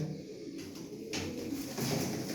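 Soft, low pigeon cooing repeats nearby, gentle and rhythmic, with no talking.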